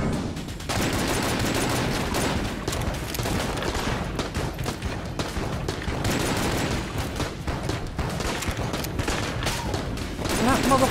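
Loud, dense gunfire from the video game Enter the Gungeon pours out in a near-continuous barrage of rapid shots and bursts that lasts throughout.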